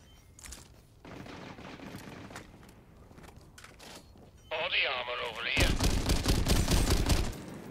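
Marksman rifle fire in a PvP shooter game crackles in bursts of rapid shots, growing louder and denser toward the end, while someone talks over it.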